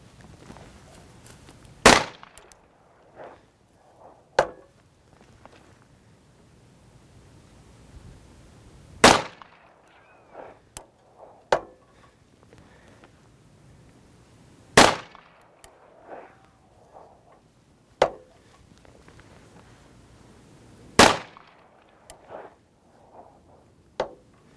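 A Watchtower Apache 9mm pistol fires 124 grain hollow point loads, about five sharp, loud shots spaced several seconds apart, each followed by faint clinks and handling noises.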